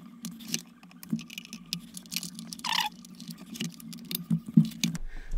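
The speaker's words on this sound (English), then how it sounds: "And now I'm gonna cut all the extra cable tie." Excess cable tie ends being snipped off on a homemade pedalboard, a series of sharp little clicks and ticks at irregular intervals, close by, with light handling rustle between cuts.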